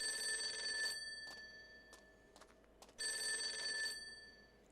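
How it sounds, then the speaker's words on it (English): A telephone bell rings in two long trilling bursts with a gap between them, bright and steady over a quiet background, with no speech. "The phone is ringing."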